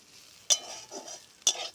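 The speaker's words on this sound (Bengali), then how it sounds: "দিয়ে আলু আর গিমা শাকগুলো আরেকবার ভালো করে ভেজে নিব" Potatoes and gima greens frying in a pan, a steady sizzle broken by two sharp clinks of a spatula against the pan as they are stirred, close and alone.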